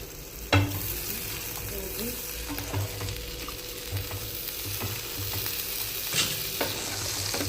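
A sandwich spread with mayonnaise toasts in a pan with a low, even sizzle, punctuated by a few soft knocks of a spatula.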